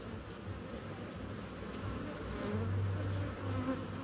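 Honeybees buzzing inside an open hive during an inspection in a nectar flow: a dense, steady low hum of many bees, close and continuous, swelling slightly toward the end.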